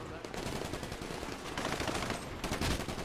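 Dense automatic gunfire in the video game GTA 5 during a roleplay mafia fight, loud continuous rattling bursts with brief surges, with voices faintly mixed in.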